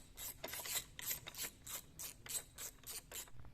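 A ratchet wrench loosening nuts on an Energica motorcycle battery clicks in a steady, even rhythm of about a dozen close strokes, alone and fairly quiet.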